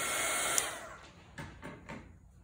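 A hair dryer blows on a watercolor painting, a steady close whooshing roar that cuts off after about a second, followed by a few faint soft rustles and knocks.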